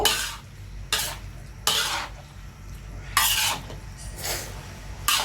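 Chicken being stirred into pasta in a pan, heard as a series of sharp, close scraping clatters from a utensil against the pan, about seven strokes at uneven intervals with quiet gaps between them.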